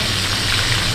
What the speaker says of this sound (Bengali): এগুলোকে আমরা 7 থেকে 8 মিনিটের মতো ভেজে নেব, এপিট উপিট করে